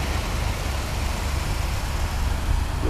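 A 1964 Imperial Crown engine idles steadily with a low, even rumble and a constant rough hiss, no voices.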